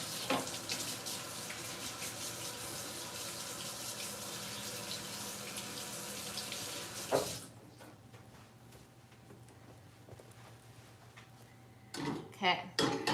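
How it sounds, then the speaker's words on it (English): Water runs steadily from a kitchen sink tap during a hand wash while baking macarons, then cuts off sharply. A few clatters and bumps follow near the counter. "Let me wash my hands."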